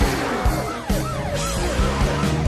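A police car siren wails in repeated rising-and-falling sweeps over a busy cartoon-style backdrop with low thumps, loud and close throughout.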